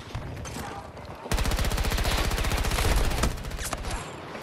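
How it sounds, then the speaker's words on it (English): Sustained automatic gunfire in the shooter game Battlefield 2042: a dense, rapid burst of shots that opens abruptly, holds steady for about two seconds, then tails into quieter distant firing and battle noise. "They're shooting at me!"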